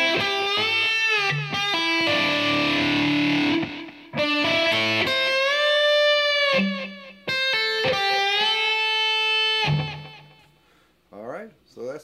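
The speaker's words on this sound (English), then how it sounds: "So that's the lick played in its entirety" An electric guitar with heavy distortion plays a rake lick, giving several sustained, bending notes with brief gaps between phrases, loud and close, alone without talk.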